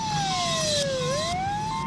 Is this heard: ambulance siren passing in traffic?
yes